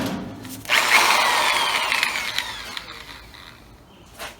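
A power tool cutting through clamped sheet steel for a 1936 Chevy coupe transmission hump, a loud, harsh whine that starts suddenly and grinds on steadily, slowly fading, with a faint clunk near the end.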